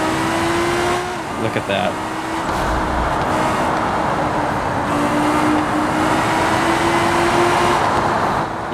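A car engine in the BeamNG driving game pulls away and holds a steady drone with a rising tone, fairly loud throughout, while someone talks over it.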